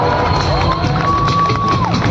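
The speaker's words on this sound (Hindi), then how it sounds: "तो एक बार जोरदार तालियां हो जाए रेचल गुप्ता के लिए." A mall crowd cheers and shouts for Rachel Gupta, a dense, loud, continuous roar of voices with whoops and children shouting, with music tones running through it.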